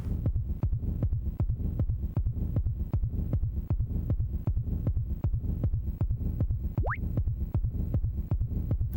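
Bomberman Hero final-battle heartbeat: a loud, relentless double-thump pulse repeating at an even tempo for the whole stretch, with one brief rising whistle-like sweep near the end.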